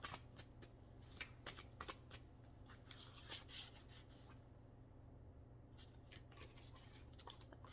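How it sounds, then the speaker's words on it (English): Tarot cards being shuffled at close range: a quiet, steady run of soft riffling and papery flicks with brief pauses, alone over a faint low hum. "I'm going to pull an intuitive card as well."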